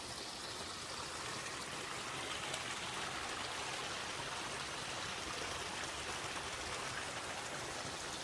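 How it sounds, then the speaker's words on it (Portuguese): Steady, broad rush of a waterfall, water pouring down continuously at a moderate distance, even and unbroken with no voices. "quando a gente ouve esse barulho de água"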